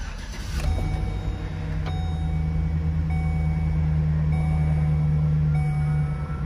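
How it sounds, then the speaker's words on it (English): A 2010 GMC Savana van engine turns over and settles into a steady low idle, running continuously at close range with no talking. "And start the car."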